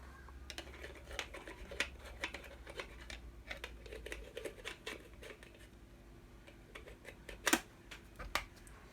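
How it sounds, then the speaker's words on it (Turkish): AA batteries being snapped one by one into the battery compartment of a robotic selfie camera holder, giving a steady run of small plastic clicks, rattles and taps up close, with no talking. "Pillerimizi takıyoruz."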